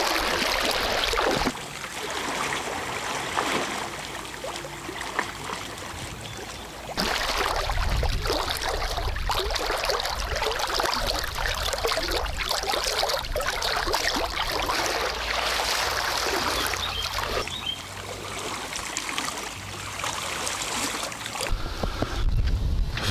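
A small boat moves across water on a warm day, with a continuous broadband wash of water and wind noise that drops briefly and resumes, steady and close throughout with no voices.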